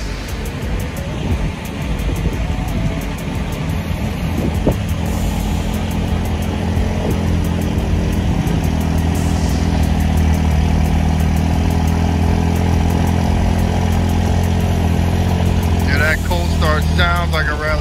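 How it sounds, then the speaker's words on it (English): A 2016 Ford Focus RS engine runs steadily with a loud, continuous low drone that persists throughout, with the tone lifting slightly partway through as it is driven off a trailer. "Sounds like a rally car."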